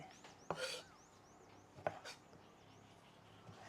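Two crisp knife cuts diagonally through a large tomato against a board, about a second apart, with faint background chirps between them.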